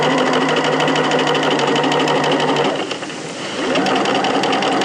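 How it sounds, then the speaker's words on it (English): A sewing machine stitches a French-seamed jeans pocket bag, following a curve with a 1 cm seam allowance, running as a loud, steady, close whir that dips briefly in the middle before picking back up. "carefully sew it around"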